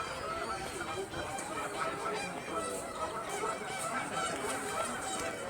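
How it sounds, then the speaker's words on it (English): Two geese, apparently nesting, fight outdoors with loud, continuous overlapping honks and squawks that run without a break through the whole stretch. "Oh, goose battle. Goose battle."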